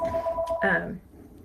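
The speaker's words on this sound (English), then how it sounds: "The phone is always ringing." A telephone in a home gives a short electronic ring of steady tones, cut off after about a second, with a voice starting to speak over the end of it.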